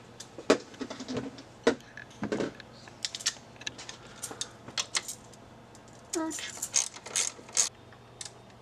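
Ratchet on the bottom alternator bolt of a car, giving irregular runs of sharp clicks and taps up close, with a small metallic clatter and some faint talk.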